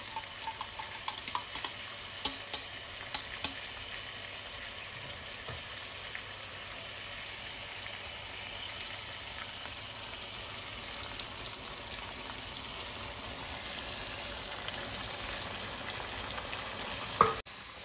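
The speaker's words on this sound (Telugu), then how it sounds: "కర్డ్ వేసేసుకొని కలుపుతుంది గైస్" Curd being stirred into chicken in a hot pan for green hariyali chicken, giving a steady broad sizzle with a few sharp utensil scrapes near the start and one near the end, and no talking.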